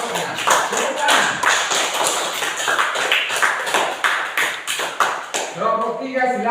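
A classroom group claps for a group presentation during a teaching performance exam, a steady burst of many hands applauding close by for several seconds before someone speaks.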